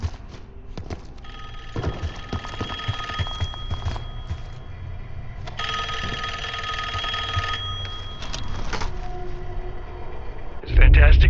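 A telephone ringing in the Call of Duty Black Ops 6 zombie mission, repeated electronic ring bursts with pauses between them over a low background hum, ending in a sudden loud thump.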